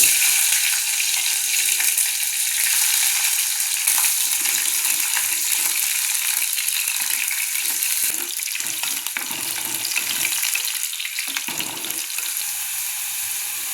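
Small shallots, garlic and green chilli frying in oil in a pan for a dry fish curry, a continuous close sizzle with crackly bursts and occasional stirring, no talking.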